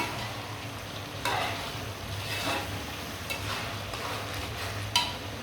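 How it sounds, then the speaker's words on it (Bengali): Panch phoron whole-spice mix sizzling as it hits a hot pan for a jolpai (olive) pickle, a steady frying hiss with a few sharper crackles and bursts spread through, close and fairly quiet, no voices. "তো এবার এর মধ্যে আমি 5 ফোড়ন দিয়ে দিচ্ছি"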